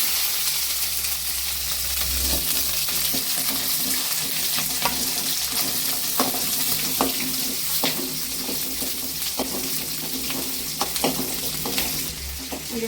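Garlic and shallots fry in oil with cumin, giving a steady hissing sizzle with soft periodic stirring clicks, moderately loud and without talk.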